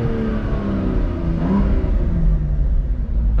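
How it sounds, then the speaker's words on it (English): A manual BMW M2 CS in Sport Plus mode gets a couple of loud, close revs, the engine surging and falling in one continuous roar with a faint crackle of small exhaust pops. "I'm going to give you a couple revs."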